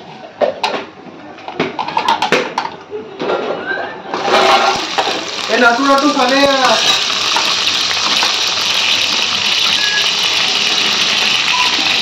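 Potatoes frying in oil in a pan, a few utensil knocks and clatter first, then a loud, steady sizzle swelling up and holding to the end.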